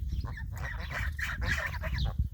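Young geese with breaking, deepening voices honk and call in a steady stream of rough, raspy honks, close and fairly loud, overlapping one another with no pauses.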